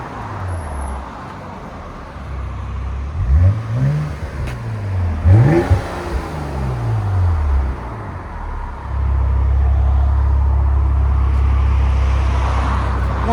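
A 2025 RAM 1500 with a 3.0L Hurricane inline-six and Flowmaster Super 10 exhaust revs several times in quick succession, its deep throaty note rising and falling, then it settles into a loud, steady drone.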